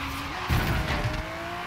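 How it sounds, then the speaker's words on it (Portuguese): Aston Martin V12 Zagato engine in Forza Horizon 3 held at top speed, a steady droning whine with a rising tone and a brief rougher burst midway, loud and alone without talk. "317 ele corta o giro do motor."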